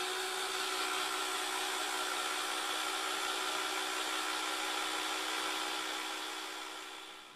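A food dehydrator runs with a steady, loud fan whir and a constant hum, unbroken and close, fading slightly at the very end.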